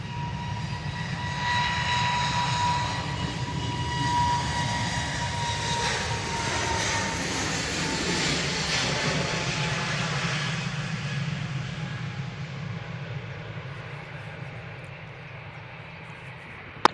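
An airliner takes off at Manchester Airport, a sustained loud engine roar with a deep rumble that holds steady and then slowly fades as the plane climbs away, with no voices heard.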